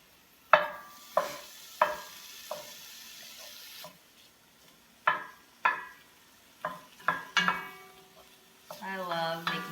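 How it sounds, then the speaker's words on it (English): Ground meat browns in a pan for chili, with repeated sharp scraping and crumbling strokes from a utensil over a faint, steady sizzle, the hiss growing louder near the end. "Crank it up just a little bit. Get this browning. I'll just crumble it up"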